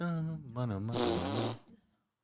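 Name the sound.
voice imitating a fart noise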